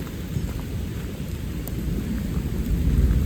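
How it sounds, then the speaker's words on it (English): Heavy rain pours down continuously on a tent with deep rolling thunder rumbling close by and building louder toward the end. "Sounds like the storm's right over the top of us."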